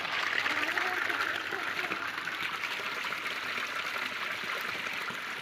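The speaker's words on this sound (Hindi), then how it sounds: "आपने देख सकते हैं पानी चला था" A steady stream of water flowing outdoors, a continuous broadband rush at moderate level that holds without pause throughout.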